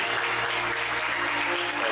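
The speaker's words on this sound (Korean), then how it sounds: "큰 박수로 맞이해 주시면 감사하겠습니다" Steady applause from wedding guests greeting the bride and groom at a Korean Disney-themed wedding ceremony, dense and continuous throughout the short stretch.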